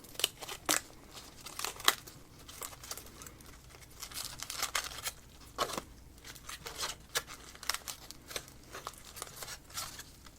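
Close, crisp crinkling and rustling of foil as an owl pellet is unwrapped, with sharp crackles and small tearing bursts spaced irregularly over a quiet room.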